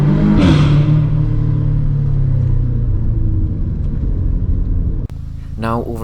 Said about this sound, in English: here's the sound inside the tunnel after the resonator delete.